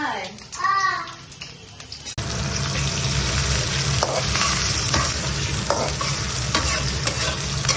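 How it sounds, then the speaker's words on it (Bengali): Onions fry in oil while being stirred, a loud continuous sizzle that starts abruptly after a voice and some clatter, with scraping strokes of the spoon through the hiss. "তেল দিয়ে একটু করে পেঁয়াজ দিয়ে"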